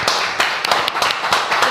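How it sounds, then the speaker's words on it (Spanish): A small group of studio colleagues claps in a short, uneven burst of distinct hand claps, with voices talking over them. "Y este aplauso es para ustedes"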